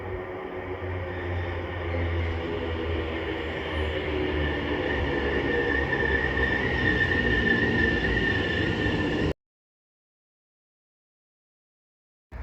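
A train rumbles into a station, wheels squealing and rails humming steadily for several seconds before the sound cuts off abruptly.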